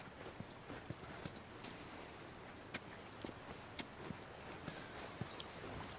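Horse hooves clip-clop at a walking pace at Tommy's hydroelectric dam in The Last of Us, an even series of quiet, distinct knocks against a soft background hiss.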